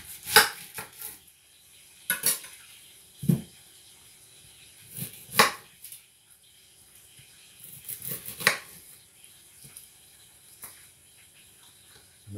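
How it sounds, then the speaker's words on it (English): Onions are chopped with a knife on a cutting board in a home kitchen, giving sparse, irregular bursts of close, crisp cuts separated by quiet pauses. "now I'm going to go ahead and prep my onions"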